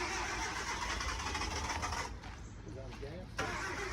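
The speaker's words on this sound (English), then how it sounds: "There, Hyundai Accent started up." A Hyundai Accent at a police towing auction cranks and catches, its engine running steadily outdoors throughout, with a short drop in level partway before it picks back up; people talk over it.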